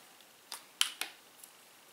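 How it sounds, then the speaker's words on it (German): Perfume spray is pumped onto an arm in two or three quick, close, hissing puffs, with a faint click before them, in an otherwise quiet room. "Da sprühe ich mir jetzt mal schnell auf den Arm hier auf."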